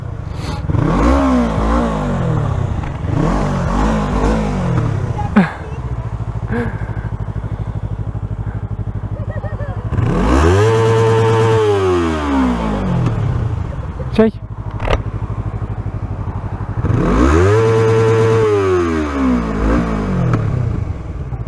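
A motorcycle with no exhaust fitted revs up and down in loud, repeated surges over a rough idle, with people talking nearby.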